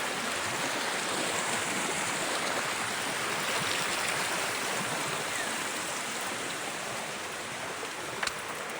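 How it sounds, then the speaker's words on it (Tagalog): A clear mountain stream flows steadily, its broad rushing water sound constant and close throughout, with no voices. "tinan mo yung sapa dito, linaw"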